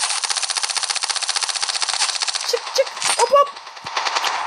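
Rapid automatic gunfire from a video game sniper-and-rifle shooter match, a long steady burst followed by a few scattered shots and clanks, loud and close with no talk over it.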